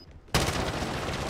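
Sudden burst of gunfire in the video game Call of Duty Warzone, a loud dense volley that starts abruptly after a quiet moment and keeps going as a sustained barrage.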